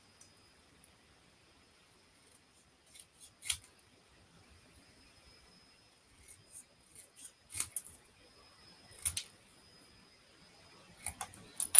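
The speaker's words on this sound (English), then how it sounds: "just trim them into individual word strips" Scissors trim paper into individual word strips in a quiet craft setting, giving scattered short snips that come singly and in small bursts with silent gaps between them.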